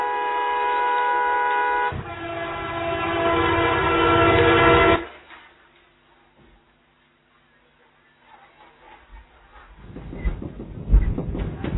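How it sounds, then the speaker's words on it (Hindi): Automatic toy train running, a loud steady rolling, whirring sound for about five seconds that cuts off abruptly, followed by near silence and then faint, rising background noise. "देखा, रेलगाड़ी ऑटोमेटिक है ना।"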